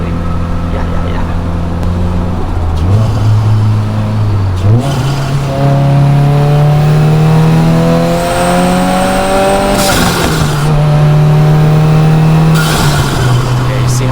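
A 2023 Subaru WRX Limited with a manual transmission accelerates through the gears, its loud engine note climbing steadily, dipping briefly at each upshift, then rising again from inside the car.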